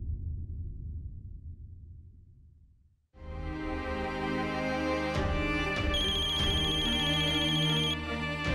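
After a few seconds of low background noise, a phone ringtone suddenly starts and plays a loud, steady, repeating electronic melody, heard alone.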